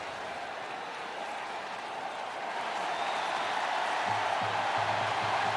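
Home crowd of Ole Miss football fans at a homecoming game against Kentucky, a broad sustained roar of cheering and clapping from a large stadium crowd that swells slightly, with a rhythmic chant rising near the end.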